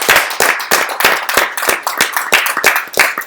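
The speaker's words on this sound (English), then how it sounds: "Clap it up, y'all" A small group of people claps on a live stream show, sharp broadband claps in a loose, steady rhythm of about three per second, close and loud with no talking.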